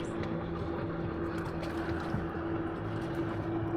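A small houseboat cruises on a lake: a steady, low, continuous motor drone carrying from a distance, with no other prominent sounds.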